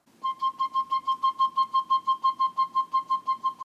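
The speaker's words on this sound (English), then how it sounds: "And then here's the sound of a piccolo." A piccolo plays a quick run of about sixteen evenly spaced short, bright, high notes at one steady pitch, close and clear with nothing else audible.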